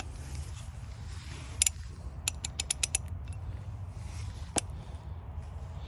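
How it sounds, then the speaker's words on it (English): Socket wrench ratcheting on a lower control arm bolt of a Buick Rendezvous, heard as a few sharp clicks and creaks over a steady background hum, with no talking. "and then you get your socket wrench"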